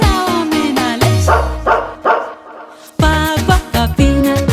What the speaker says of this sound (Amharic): አንተን እያየች ውሻዋ ምን አለች?